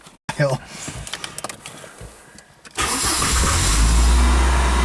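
A Saturn car engine with 300,000 miles cranks and fires up, then settles into a loud steady idle rumble close by, following a few seconds of quieter shuffling sounds.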